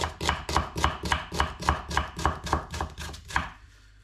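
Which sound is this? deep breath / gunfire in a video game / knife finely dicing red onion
knife finely dicing red onion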